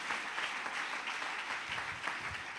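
Church congregation applauding for the Lord at a prayer service, a dense, even wash of many hands clapping at once, heard from a distance and sustained throughout.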